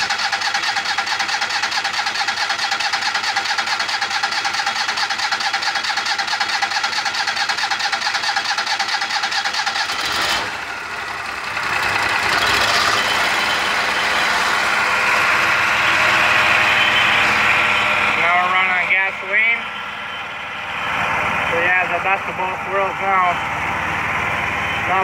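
An Evolution power system generator with a Kohler engine runs loudly and steadily, then cuts out briefly around the middle before cranking and starting up again into a sustained close-range drone with some mechanical rattles.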